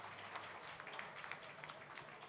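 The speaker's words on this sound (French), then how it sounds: "Allez, bravo James, on l'applaudit" An audience claps for an award winner at a dental ceramics olympiad prize ceremony, a steady, moderately faint patter of many hands running throughout.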